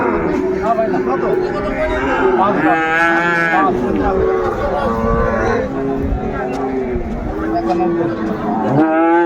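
Repeated bellowing moos from a Sahiwal bull calf at a crowded livestock market, several long calls in sequence, close and loud, with voices chattering continuously underneath.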